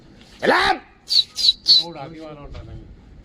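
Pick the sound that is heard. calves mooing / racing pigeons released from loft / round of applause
racing pigeons released from loft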